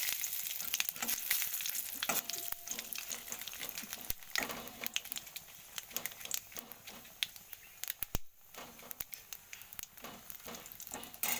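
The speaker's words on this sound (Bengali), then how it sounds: "এবার ফোড়নটা আমি অ্যাড করব তেলটা অলরেডি গরম হয়ে রয়েছে" Whole spices including cumin seeds crackle and sizzle in hot oil for a tempering before a light boal fish curry; dense continuous popping and spitting with sharp bursts, close, moderately quiet, with no voices.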